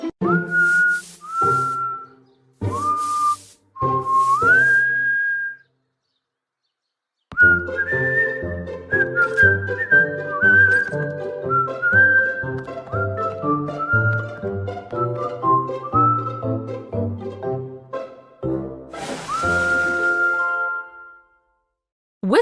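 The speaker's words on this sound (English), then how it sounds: "W is for whistle." A whistle is blown in a few short rising toots, then a longer, melodic run of whistled notes, ending with one more rising blast; it is fairly clear and there is no talking.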